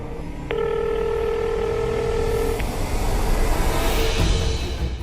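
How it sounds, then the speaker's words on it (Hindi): A single long telephone tone sounds for about two seconds over rumbling background noise, like a call ringing out, followed by traffic-like noise. "फोन करके देखता हूँ।"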